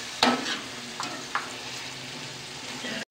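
Tomatoes and tamarind are stirred in a pot for Sindhi biryani, giving a soft continuous sizzle with a few scraping strokes and a brief clatter, close and fairly quiet, with no talking.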